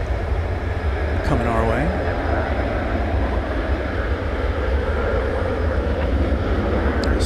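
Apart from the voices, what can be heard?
Airbus A380 taxiing on runway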